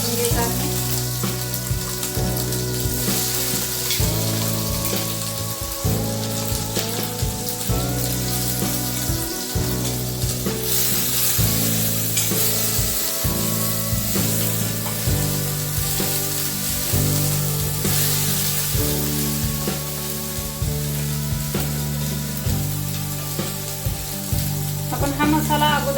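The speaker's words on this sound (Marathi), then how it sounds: "पॅन मध्ये 2 चमचे तेल गरम करून घेतलेले आहे, त्यामध्ये हा बारीक केलेला मसाला भाजून घ्यायचा आहे" Ground masala roasts in two spoons of hot oil in a pan for sukke chicken, a continuous sizzle and crackle that runs for about 26 seconds under a steady bed of background music.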